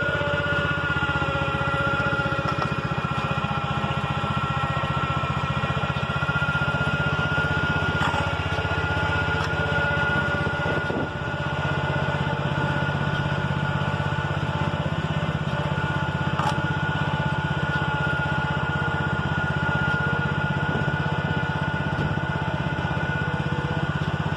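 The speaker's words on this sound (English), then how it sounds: "thought the tractor was going to fizzle out there for a moment." A tractor engine runs steadily near a farm barn, a constant droning hum with a faint whining tone and small wavers, continuous and fairly close with no talking.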